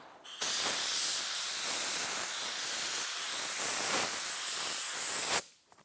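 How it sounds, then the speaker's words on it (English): A paint spray gun is triggered, sending out air and atomized paint as one continuous, close, loud hiss lasting about five seconds, with slight swells as it is swept across the surface before cutting off abruptly. "when I first triggered the gun, it's just air. I'm bleeding the paint in or feathering the paint in on my passes."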